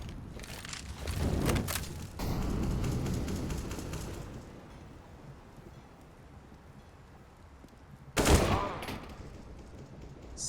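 AK rifles firing in Counter-Strike on the Overpass map: short rapid bursts of automatic gunfire, one in the first seconds and another sharp burst later, with quieter ambient game noise and faint footsteps between.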